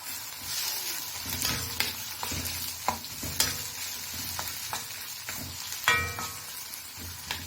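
Carrots and tomatoes frying in a pan, a close steady sizzle broken by clinks and scrapes of stirring, with no talk.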